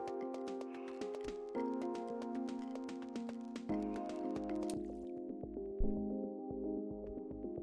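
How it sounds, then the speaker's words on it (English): Watery underwater ambience of drips and soft squelches over steady layered electronic tones, continuous and moderately quiet. "there's a sort of atmospheric effect as you go into water."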